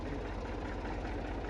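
A tractor engine idles steadily in a low, continuous rumble with a faint knocking texture. It is fairly close and quiet, and no one speaks over it.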